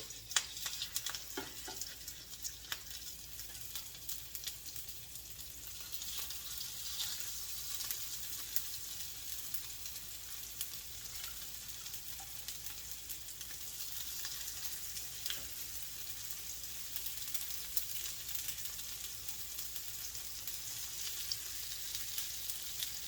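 Potato croquette breakfast patties fry in a hot pan with a steady, close sizzle and crackle that runs unbroken and fairly soft throughout, with no talk.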